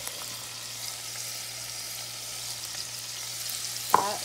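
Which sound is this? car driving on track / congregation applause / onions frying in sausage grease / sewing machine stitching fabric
onions frying in sausage grease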